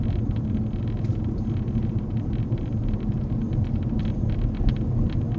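A car engine pulls up a hill in second gear, a steady, loud low rumble that holds constant throughout with no talk over it.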